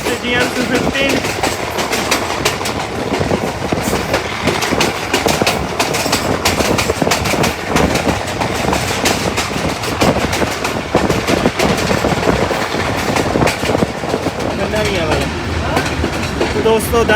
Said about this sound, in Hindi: ज़बरदस्त किस्म की एक्सेलरेशन। क्या बात है भाई, अमेरिकन बीस्ट GM215